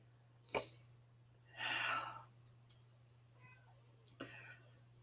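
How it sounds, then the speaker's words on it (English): A cat meows a few times indoors, with short breathy calls separated by pauses and one longer, louder meow near the middle, all set over a constant low hum. "that meow says you want me there, but I can't"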